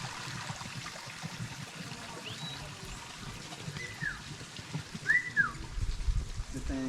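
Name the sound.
whistling duck whistling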